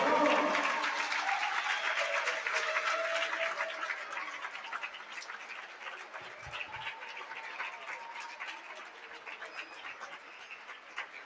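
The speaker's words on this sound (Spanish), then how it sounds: "¿Qué os pareció, papá? Un aplauso." Audience applause at the close of a youth chess league round in Galicia, a steady wash of clapping that is loudest at the start and gradually thins and fades over about eleven seconds.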